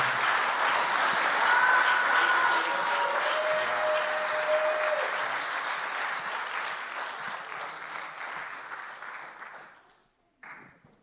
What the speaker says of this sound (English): Maybe give you one more round of applause for these students.